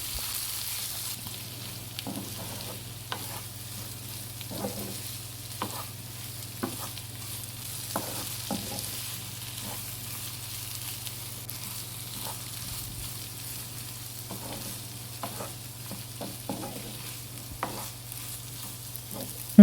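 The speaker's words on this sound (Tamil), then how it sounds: "நம்ம கட் பண்ணி வச்சுருக்க பேபி பொட்டேட்டோஸை இதில் சேர்த்துக்கலாம். இதை சேர்த்துட்டு நல்லா மிக்ஸ் பண்ணி விட்டுக்குவோம்." Baby potatoes frying in an onion and tomato masala are stirred in a pan. A steady low sizzle runs underneath while the spoon scrapes and clacks in scattered strokes, close by, with no voices.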